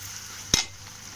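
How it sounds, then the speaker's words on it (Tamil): Onions, curry leaves and ginger sautéing in a pan for a stingray fish curry, a soft steady sizzle with one sharp clink of a stirring utensil midway. "வெங்காயம் நல்லா வதங்குது."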